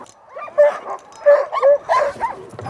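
Excited sled dogs in a kennel yip, whimper and bark in a string of loud, close bursts with short gaps between them.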